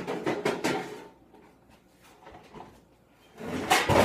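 A baking sheet is pulled from a kitchen drawer, with two bursts of sliding, clattering metal and wood, one at the start and one at the end, separated by a quiet stretch.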